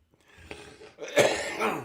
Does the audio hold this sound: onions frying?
no